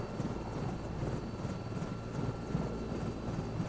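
A helicopter in Microsoft Flight Simulator 2024, flying an oil rig delivery, gives a steady, loud rotor and turbine drone with a rhythmic low thrum that holds throughout, with no talk over it.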